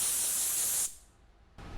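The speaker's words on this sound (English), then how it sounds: "use your air compressor and blow them out first" An air compressor nozzle blasts a loud, close hiss of air through a microfiber applicator, stops abruptly for a moment, then starts again.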